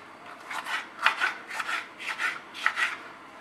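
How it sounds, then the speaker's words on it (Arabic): Repeated rasping strokes, paired in a steady rhythm, like a knife working through vegetables on a board, close and moderately loud. "غادي نقطعو هاد الخضر هادو قطع صغيره"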